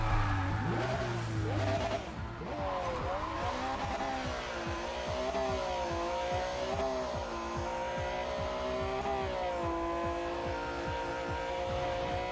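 Audi S4 in the racing game Need for Speed Pro Street, heavy and understeering: a loud, close engine that revs and shifts through rising and falling pitches, with tire squeal and skidding throughout, no voices.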